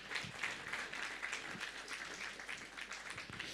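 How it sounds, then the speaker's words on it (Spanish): A church congregation at a Sunday service applauds a music group with continuous, even clapping that sounds fairly distant and soft, holding steady throughout. "Vamos a dar una vez más, por favor, fuertes aplausos al grupo Canto de Esperanza."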